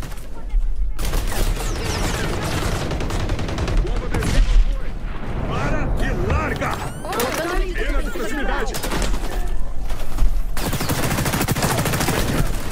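Sustained automatic gunfire from a weapon in the shooter game XDefiant, loud rapid bursts running almost throughout with brief gaps, mixed with game effects and in-game voice lines.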